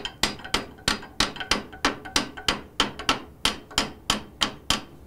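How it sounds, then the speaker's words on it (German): Hammer blows drive an iron tenon into a hole in an ironwork table, about sixteen sharp, evenly spaced metallic strikes in quick steady rhythm, close and clear with no talk. "jetzt gebe ich ihm hinten zwei, drei Schläge an."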